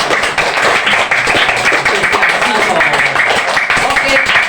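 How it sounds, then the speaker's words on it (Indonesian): Classroom applause, a group of pupils clapping their hands together in a dense, loud, continuous patter, with voices mixed in. "Tepuk tangan toh."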